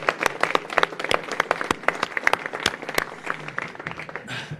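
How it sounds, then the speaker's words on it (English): Award winners clapping at the Dapper Dan Awards banquet, a moderate burst of crowd applause with sharp individual claps spread through the room, fading out toward the end. "I would like the award winners to please clap for the people now standing"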